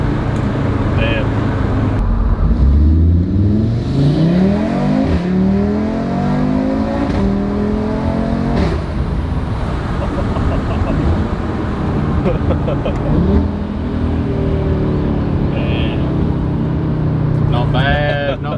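An Audi RS3 fitted with a custom downpipe and midpipe exhaust revs repeatedly, its engine note sweeping up and down loudly and close by, while people talk over it.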